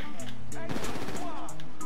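Rapid video game gunfire crackles loudly in a clustered burst near the middle, with a voice talking over and around the shots.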